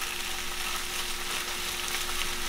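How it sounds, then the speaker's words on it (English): Jasmine rice and crunchy peppers sizzle in a hot pan, a steady, dense, close frying hiss with no pauses and no talk. "you guys hear that sizzle? That like food sizzle?"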